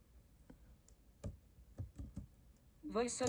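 Typing on a wired keyboard connected to an Apple silicon Mac, a handful of separate soft keystrokes spaced unevenly, followed by a brief burst of higher, brighter sound at the end.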